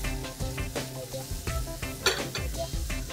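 Marinated chicken roasts in masala over low heat while a spoon stirs it against the pan, giving repeated scraping knocks and clinks over a continuous sizzle.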